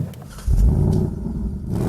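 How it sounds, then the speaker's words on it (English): A 2018 Ford Mustang's naturally aspirated 5-litre V8 fires up with a sudden loud, deep burst, then settles into a rumbling idle close by. "when you fire up the engine"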